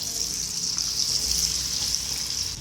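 Chana dal pakoda batter with onion and coriander fries in hot oil, a continuous bright, bubbling sizzle held at an even level throughout.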